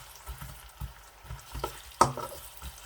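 Onions stirred in a pan for Balochi biryani, soft spaced scrapes and a light sizzle, with one louder clatter near the end, quiet and close.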